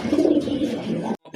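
Large white-and-black pigeons offered for sale coo in a steady, close, low rolling murmur for about a second before it cuts off abruptly.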